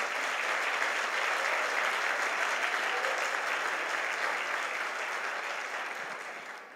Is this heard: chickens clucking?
no